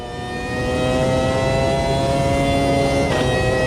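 A 3-liter V10 race car without traction control, from Automobilista 2, revs hard with a steady high-pitched harmonic whine that builds quickly and then holds loud and close.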